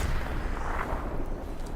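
Artillery shells pound down in the video game Hell Let Loose, a dense, continuous rumble of booms and thuds packed tightly together, loud and steady with no clear gaps.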